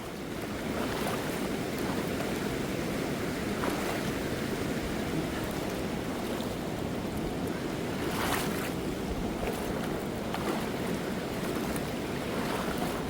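A hiker wades in sandals and neoprene socks across an ice-cold glacial stream below a moraine in British Columbia. Rushing water fills every moment at a steady, loud level, with wind buffeting the microphone and no talk.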